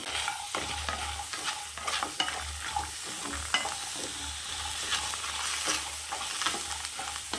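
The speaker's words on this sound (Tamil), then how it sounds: "இப்போ நம்ம மிளகா கொத்தமல்லி மட்டும் நல்லா வறுபட்டால் போதும்" Dried chilli, coriander, peanuts, small onions and small tomatoes roast in a pan, with a continuous soft sizzle broken by repeated scraping and stirring strokes of a spoon against the metal, close and steady throughout.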